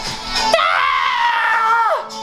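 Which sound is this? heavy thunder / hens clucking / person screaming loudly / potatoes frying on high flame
person screaming loudly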